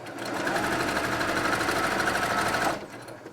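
Sewing machine running steadily for a quarter-inch seam on quilt strips, a continuous close whirring stitch that holds for under three seconds, then cuts off abruptly.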